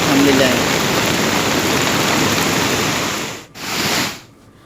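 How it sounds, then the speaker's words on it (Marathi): Heavy, continuous rain driven by strong wind in Ratnagiri roars as a dense wash of noise, then drops off abruptly near the end. "सातत्यानं रत्नागिरीमध्ये पाऊस सुरू आहे वेगवान वारे सुद्धा वाहत आहे"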